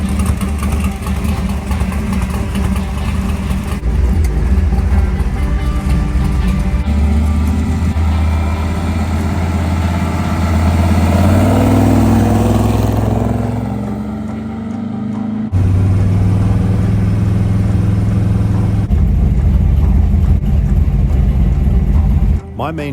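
A 1955 car with a new billet ATM intake on a test drive, engine droning and rising under acceleration, easing off midway then pulling again, loud and close inside the cabin with occasional talk over it.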